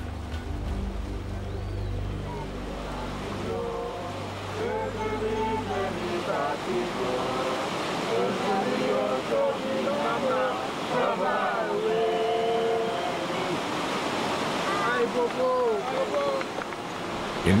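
Cascading water at the sacred Saut-d'Eau waterfall in Haiti makes a broad, continuous rushing roar, steady and loud throughout, with someone speaking over it and sounds of water tumbling underneath.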